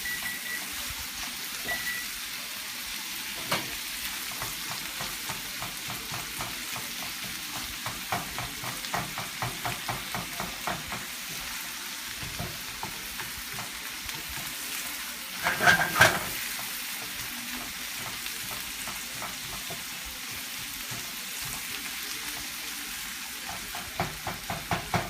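Ground pork is stir-fried in a pan, a continuous close sizzle with repeated scraping and stirring strokes from a utensil, a brief louder clatter in the middle, and no talking.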